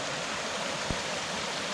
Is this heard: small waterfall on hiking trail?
yes